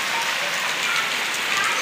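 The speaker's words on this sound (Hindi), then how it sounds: "अच्छी बात है, बारिश हो रही है" Steady, loud rain falls on a surface nearby as a dense, continuous patter with no pause and no talking.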